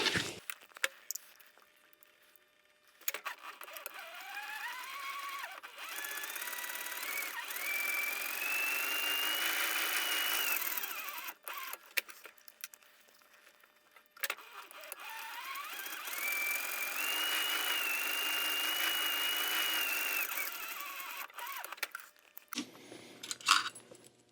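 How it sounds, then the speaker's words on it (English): A sewing machine stitches the gusset of a 10-inch round fabric purse in two long runs, each rising to a steady whirring hum and then stopping, with clicks and handling noises between and after. "So let's go to the machine and sew it."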